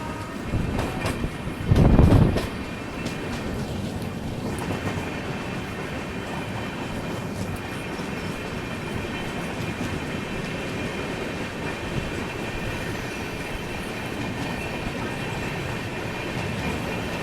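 Udhna Banaras Express train rolling along mainline rails, a steady continuous rumble with faint clickety-clack, preceded by a brief louder thump or clatter near the start.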